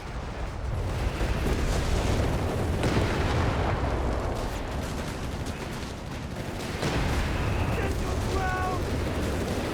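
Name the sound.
heavy artillery fire in Company of Heroes 3 video game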